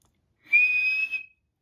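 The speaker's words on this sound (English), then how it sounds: "the guard blew his whistle" A railway guard blows a single steady whistle blast lasting under a second, clear and fairly close, with nothing else around it.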